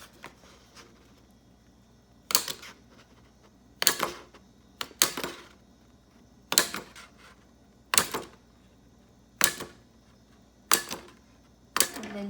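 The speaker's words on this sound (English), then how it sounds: "Then I'm going to punch them out." A hole punch presses through planner pages, about nine sharp, close clicks spaced a second or two apart, each a crisp crunching snap with a short tail, with quiet between.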